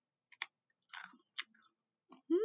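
Crisp bites into a raw almond, a few short crunchy chewing bursts close to the mic with pauses between them in a quiet room, ending in a brief rising voiced sound.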